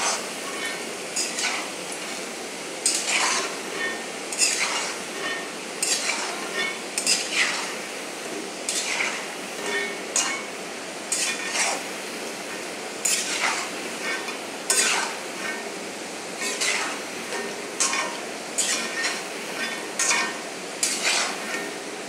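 French fries bubble and crackle in hot oil for a long stretch, with repeated scraping and clinking of a metal utensil against the pan as they are stirred and turned.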